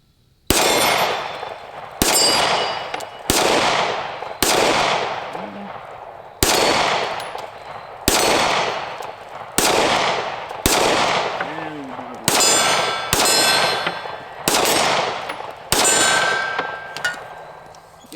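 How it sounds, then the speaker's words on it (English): A Ruger Max-9 pistol fires a magazine at steel targets: about twelve sharp, loud shots, each followed by a ringing metallic clang, spaced roughly a second apart in a steady, slightly uneven rhythm, with no talk. "Let's shoot one more magazine of the Ruger."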